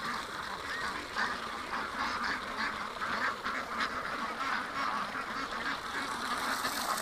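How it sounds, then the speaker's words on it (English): A busy crowd of ducks and geese fills a farm pen with steady, overlapping quacks and honks that continue unbroken throughout, dense and moderately loud, with no single bird standing out. "A lot of ducks."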